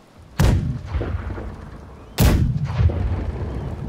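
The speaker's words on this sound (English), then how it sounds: "Fire all the left side cannons." Ship's left-side cannons firing in the pirate game Blackwake: two loud, close booms about two seconds apart, each followed by a second report and a rumbling tail, with no talk.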